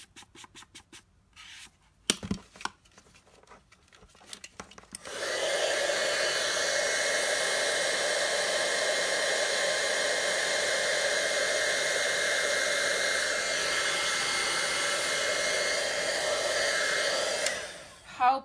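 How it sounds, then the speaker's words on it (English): After a few seconds of quiet scratching and handling, a heat tool blasts hot air over a paper craft card as a loud, steady, close whoosh for about twelve seconds, then cuts off. "Heat tool."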